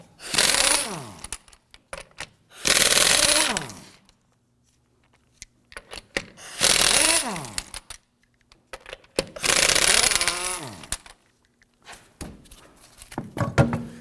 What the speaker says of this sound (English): Using a 19mm socket, we're going to loosen and remove the lug nuts.